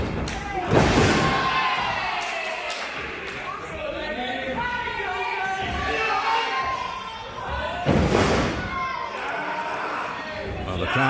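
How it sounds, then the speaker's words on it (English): Live wrestling crowd in Dagenham roars and chatters steadily throughout, with loud ring thuds and slams at about one second and eight seconds, a commentator's voice running over the noise. "Well, the crowd are loving the second contest."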